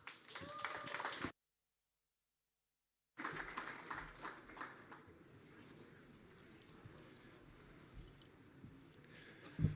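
Applause from a hackathon closing-ceremony audience, thin scattered clapping after a brief silent gap, fairly faint and sparse over several seconds.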